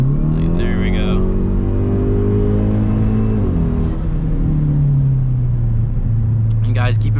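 A 2017 Hyundai Veloster Turbo with a straight-piped intake accelerates at full throttle, its loud engine rumble climbing in pitch, briefly dipping at a shift, then pulling on, with short voice sounds at the start and end.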